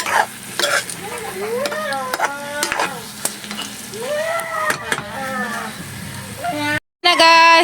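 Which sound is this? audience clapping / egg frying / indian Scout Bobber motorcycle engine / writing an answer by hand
egg frying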